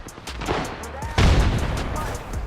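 A grenade in Apex Legends bursts with a loud, heavy blast in the middle of a busy firefight, surrounded by scattered gunfire and voices.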